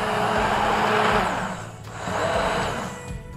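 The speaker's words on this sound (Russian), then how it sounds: "Снова перебиваем все это блендером." A blender purees pumpkin cream soup made with 10% cream, a loud steady whirring roar that swells, dips near the middle, then surges again, with no talk.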